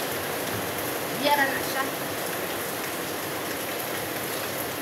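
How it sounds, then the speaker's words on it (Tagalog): Heavy rain pours steadily in a dense, even hiss on surfaces, constant and close throughout, with a brief voice speaking partway through. "Gusog na ang ulan."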